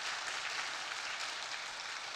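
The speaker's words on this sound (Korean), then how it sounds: "교원님들께 인사드릴 때 큰 박수로 환영해 주시면 감사하겠습니다" A church congregation applauds to welcome a newly appointed minister, a dense, even wash of many hands clapping that holds steady throughout without voices.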